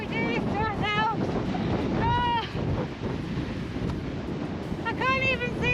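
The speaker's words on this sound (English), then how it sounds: "It's a bit windy again." Wind rushing across the microphone in a constant low roar while people talk over it in short bursts.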